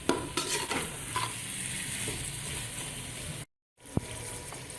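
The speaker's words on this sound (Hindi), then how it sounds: "फिर इसको भूनूंगी।" Minced chicken keema sautéing in a pan, a close, continuous sizzle and frying hiss with a spoon stirring and scraping, briefly cutting out before the sizzling resumes with a sharp clack; no talking.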